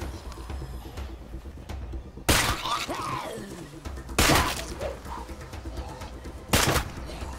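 Sharp, loud gunshot-like blasts in the co-op zombie survival game State of Decay 2, three of them spaced a couple of seconds apart over a busy game soundscape, with no talk.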